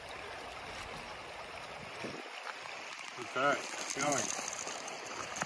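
A small stream runs in the background on a warm winter day, a steady broadband wash of flowing water throughout, with a person speaking briefly over it near the end.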